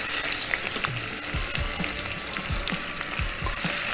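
Diamond-cut onions hit hot oil and cumin in a pan, giving a loud, continuous sizzle with crackling pops and stirring scrapes throughout.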